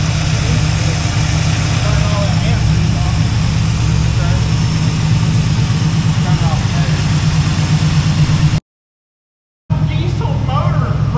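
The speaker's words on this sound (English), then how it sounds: "Diesel motor running." A Chevy El Camino's diesel engine runs at a steady, loud, low rumbling idle close by, cutting out briefly near the end before resuming, with talking over it.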